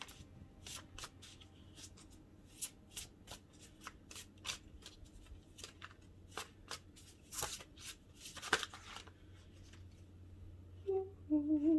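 Tarot cards being shuffled by hand give a soft, close riffling and flicking in repeated bursts, faint and intimate, with a few light taps between.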